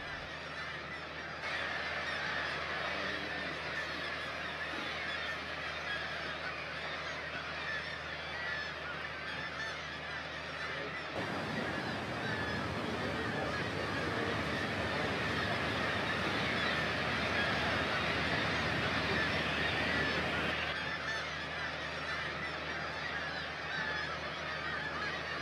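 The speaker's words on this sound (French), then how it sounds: "Des milliers d'oiseaux nichent dans ces falaises au soleil." Thousands of seabirds nesting on sunlit Greenland cliffs fill the air with a dense, continuous wash of honking, goose-like calls, echoing from a distance and swelling louder midway, with no voices.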